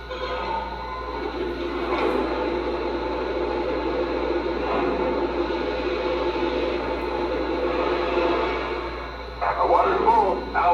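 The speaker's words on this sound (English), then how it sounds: "And here's the sound of water being added to the tender." Water filling the tender of a Lionel Western Maryland 1309 model steam locomotive, a steady hissing, rushing pour from the onboard sound system that runs continuously, with a brighter splash near the end.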